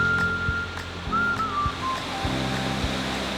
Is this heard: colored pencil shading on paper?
no